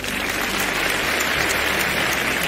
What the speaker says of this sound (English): Applause tracks when the hands you hear are in the right hands.